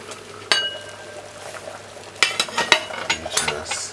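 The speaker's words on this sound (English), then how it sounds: "And just stir it in gently." A spoon stirs butter into a pot of chicken foot stew peas, giving sharp metallic clinks against the pot and a soft wet sizzle, with a cluster of quick taps toward the end.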